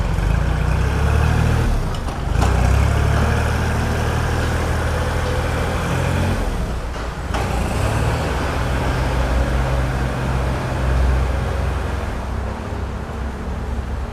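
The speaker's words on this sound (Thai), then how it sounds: "รถคันนี้สตาร์ทติดง่ายนะคะ ระบบไฮดรอลิกปกตินะคะ เดี๋ยวเราจะไล่เกียร์นะคะ" Kubota L3608SP tractor, a 2015 model, engine running steadily at close range, a loud continuous diesel rumble with brief dips and clunks as it is shifted through the gears.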